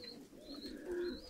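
Stavropol high-flying pigeons kept in an aviary at a country house give soft low cooing, a few mellow calls swelling near the end, close by and fairly quiet.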